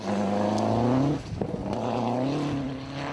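A Mazda rally car on a gravel stage at Rally Gisborne in the New Zealand Rally Championship, its engine loud and close, revving, briefly dropping off, then pulling hard again.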